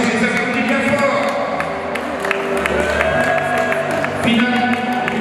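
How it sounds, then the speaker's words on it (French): A crowd applauds and cheers at a U18 futsal tournament final, a steady wash of clapping and voices throughout with a shouted whoop rising near the end. "Allez, c'est parti, on les applaudit bien fort."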